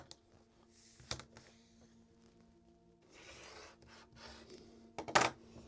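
Quiet rubbing and scraping as a blade or rotary cutter trims the seam allowance of a paper-pieced quilt block, with a brief sharp cut near the start and a louder rasping stroke near the end.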